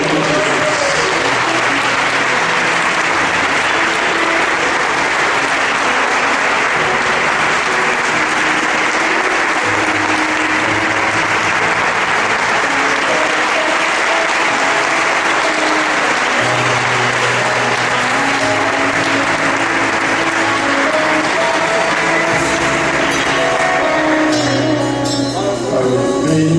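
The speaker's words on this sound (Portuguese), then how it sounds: "Pode aplaudir." Sustained audience applause at a church convention lecture in a large hall, a dense, steady clapping that holds loud and even for nearly half a minute before thinning slightly at the end.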